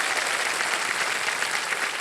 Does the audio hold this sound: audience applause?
yes